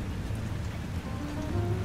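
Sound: rain falling in a radio play

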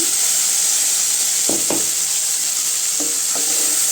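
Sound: sauteing onions and tomatoes frying in a pan

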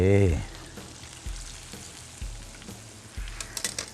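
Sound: shrimp being tossed in chili sauce

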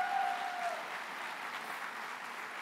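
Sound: audience applause

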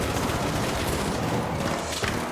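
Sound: machine gun fire in video game

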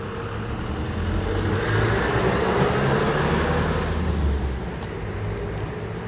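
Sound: Tesla Model 3 SR+ driving itself via Smart Summon

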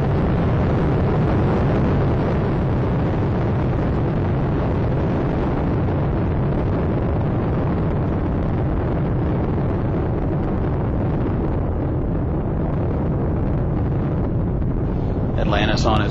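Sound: Space Shuttle Atlantis launch engines roaring

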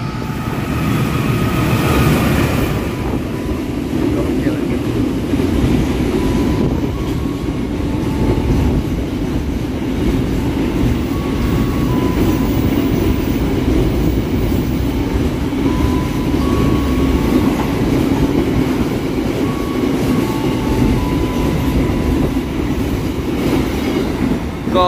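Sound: container freight train passing

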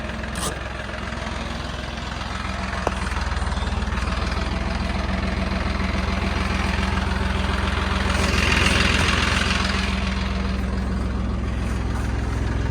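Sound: car engine running

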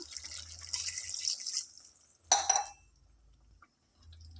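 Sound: glass of water poured into frying mutton curry

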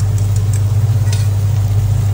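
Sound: beaten egg frying with rice in hot wok

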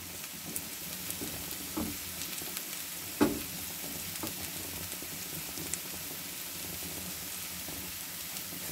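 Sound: dough piece frying in hot oil, sizzling

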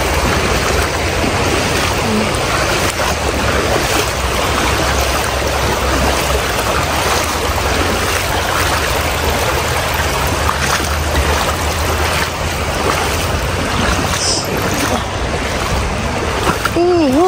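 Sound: river stream flowing

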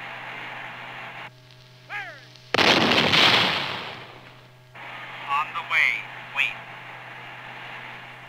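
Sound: artillery firing Copperhead cannon-launched guided projectile

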